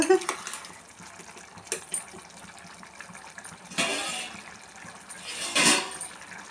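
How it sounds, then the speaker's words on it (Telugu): Water poured into a curry cooking in a pressure cooker in a home kitchen, heard as a couple of soft splashing gushes over a quiet background. "ఇప్పుడు ఇందులో వచ్చేసి ఇంకా వాటర్ అయితే వేస్తున్నాను"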